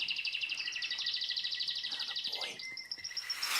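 Canaries sing indoors, a fast trilling warble of rapid repeated high notes that runs steadily and then shifts pitch, fairly close and clear over a quiet background.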